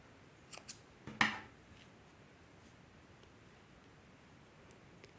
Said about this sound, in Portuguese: Então, você vai cortar o fio.